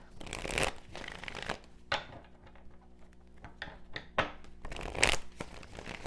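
Tarot cards are shuffled by hand in several quick riffling bursts, with soft rustles and taps between them, close and clear.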